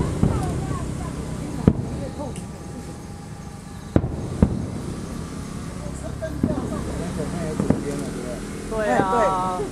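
Fireworks bursting at the Toucheng fireworks festival in Yilan, with scattered distant booms and crackles heard under a crowd's ongoing chatter and voices nearby.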